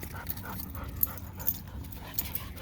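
A dog whimpers and yips faintly in an outdoor off-leash setting, soft intermittent whines over low background noise and light panting.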